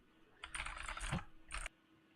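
Fast clicking keystrokes on a computer keyboard come in two quick bursts, a longer flurry and a shorter one, close and fairly faint, with no voices.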